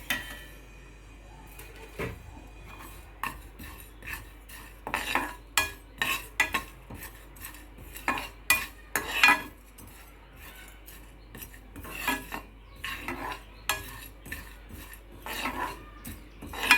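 Sesame seeds and cumin sizzle faintly in a pan while a metal spoon stirs and scrapes in irregular bursts, close and fairly loud, with no talking.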